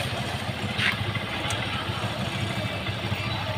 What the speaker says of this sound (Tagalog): Papainit pa ng motor.